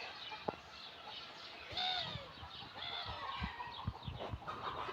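Broiler chickens raised in a village yard clucking and murmuring, with scattered short calls and a brief rising squawk over steady outdoor background noise.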